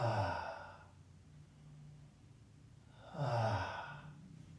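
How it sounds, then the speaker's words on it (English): Two slow, deep breaths exhaled through the mouth from belly and chest, each a long breathy sigh fading out, separated by a quiet pause, close and alone without talk. "on the inhale, I'm going to inflate my belly, then my chest, and then exhale"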